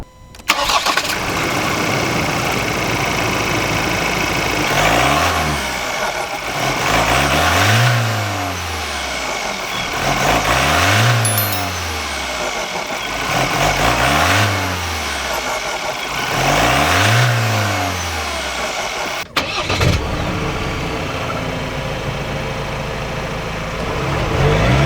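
A Ford Ranger Raptor with a 2.0-litre four-cylinder bi-turbo diesel starts up, then revs in four or five evenly spaced bursts that rise and fall over a steady idle, close and loud with no talking.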